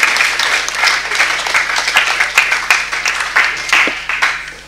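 Applause for students at a Rome municipal council session: a crowd of hands claps steadily and fairly loudly for several seconds, a dense, even patter in a meeting room.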